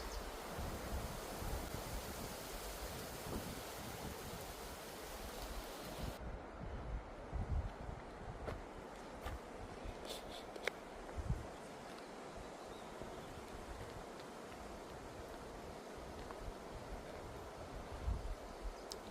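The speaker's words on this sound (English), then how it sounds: "that's just giving you a little glimpse of how windy it is" Steady wind roars and buffets the microphone at Sherwood Pines campsite, a broad continuous rush with occasional gusty thumps and rustle, no voices, persisting loudly for the whole stretch.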